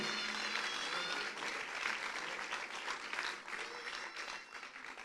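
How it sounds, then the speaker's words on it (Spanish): A church congregation claps together during a sermon, a fairly distant, sustained patter of many hands that rises and falls slightly over a few seconds, with faint voices mixed in. "Dale un aplauso al Señor."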